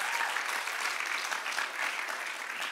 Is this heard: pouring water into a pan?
no